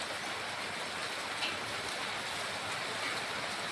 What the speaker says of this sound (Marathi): इतका पाऊस चालू आहे जोराचा.